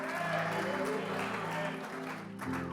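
Church congregation applauding, a dense steady patter of clapping close by that thins slightly near the end, with a voice speaking over it.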